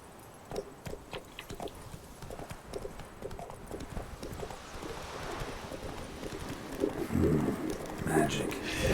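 Hooves of the horse Roach clip-clop at a steady rhythm in Witcher 3: Wild Hunt, fairly quiet and continuous, with a brief voice and a burst of louder game sound near the end.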